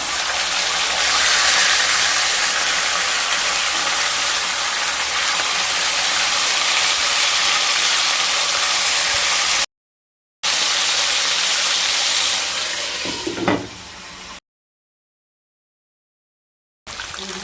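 Flipped rohu fish sizzle in hot mustard oil with a dense, continuous hiss close by, broken by two abrupt silent gaps; the sizzle returns quieter near the end.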